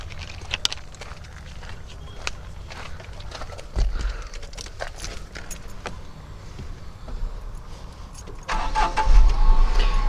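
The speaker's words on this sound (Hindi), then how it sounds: "सो ये मैंने कार को क्रैंक कर लिया है" A Tata Tiago hatchback engine cranks and settles into a steady idle after water is poured on it, with a louder rev surge near the end and small handling clatter around it.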